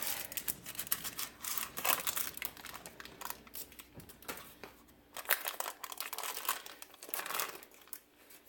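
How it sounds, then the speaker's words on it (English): Paper is peeled off a cheesecake made in an Instant Pot, giving a close, continuous crinkling and tearing with irregular bursts of louder rustling. "peel the paper off."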